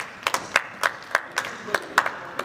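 Live audience at a music seminar clapping in a sparse, fairly regular rhythm of distinct handclaps, roughly three per second, close and moderately loud, with speech underneath.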